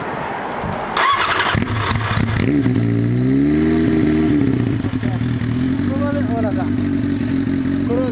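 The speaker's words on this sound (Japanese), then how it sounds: "エンジン音聞かせてもらえますか" A Kawasaki motorcycle engine cranks and catches about one second in, then settles into a loud, close, rumbling idle with a few throttle blips, while people talk nearby.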